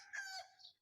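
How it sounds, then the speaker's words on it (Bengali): A single short rooster crow, faint and somewhat distant, rising then trailing off, with no other sounds around it. "আর এই যে পাশে মোরগ ডাকে"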